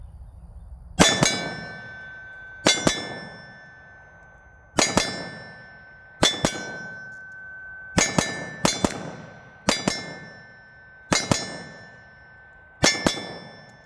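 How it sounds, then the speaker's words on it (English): Sharp metallic clangs ring out as shots from a PSA Dagger pistol strike steel silhouette targets, spaced hits and some quick doubles, each with a short ringing tail. "you'll audibly be able to hear the hits"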